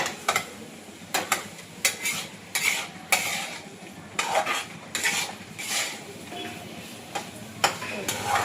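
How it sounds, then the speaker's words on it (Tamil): Paneer filling mixed with masala in a bowl, a spoon clinking and scraping against the sides in quick repeated strokes, near and fairly loud, with a faint background hiss and occasional voice. "பாருங்க நல்லா மசாலாவோட கலந்து வச்சுப்பாங்க"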